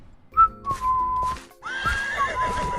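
A horse neighs loudly and close up, with one whinny followed by a second, longer, wavering one and faint stamping beneath.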